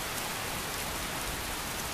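Rain pouring down in the video game Skyrim, a steady, even hiss of falling drops that fills the whole clip at moderate level, with no voices.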